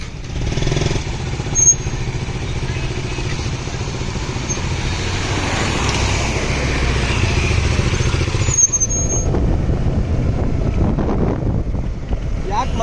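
A KTM Duke motorcycle on the road during a friends' trip to Honnavar, its engine drone steady and continuous beneath heavy wind buffeting on the microphone, with a slight shift in tone partway through.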